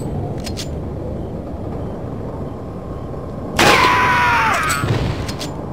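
Trick-shot gunshots in the video game Resident Evil 4 at a cable car carnival area, with a sudden loud shot and its ringing, whining tail after a stretch of quiet ambient hum and a few faint clicks.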